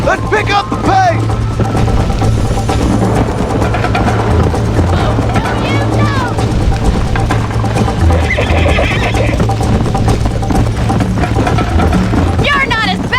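Horse neighing and whinnying while being ridden at pace in the video game Red Dead Redemption, with hoof clip-clop and rushing movement noise, mixed under ongoing talk.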